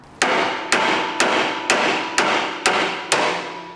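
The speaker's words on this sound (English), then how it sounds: "it may need a couple knocks with a hammer" A hammer strikes rusty handlebars on a Vespa GTS scooter seven times in a steady, evenly spaced rhythm, each blow sharp and metallic with a ringing tail, loud and close with no talk.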